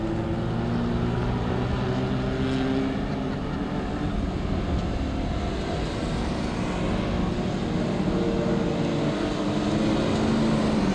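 Speedway race cars thunder around a dirt oval at Bibra Lake Speedway, three wide through a corner, a loud continuous roar of engines from a crowd of cars with no break.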